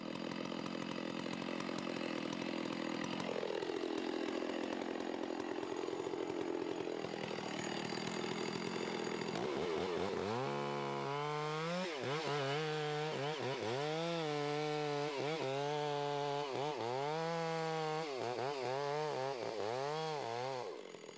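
A chainsaw cuts the back cut into a standing tree, first a steady bogging cutting drone, then the engine revving up and down in repeated surges, close and loud.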